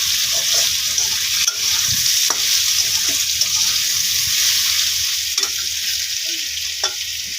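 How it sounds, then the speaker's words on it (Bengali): Potatoes fry in a pan with a steady, close sizzle, broken by occasional scrapes and clicks from stirring, and no one speaks. "একটু আলু ভাজি।"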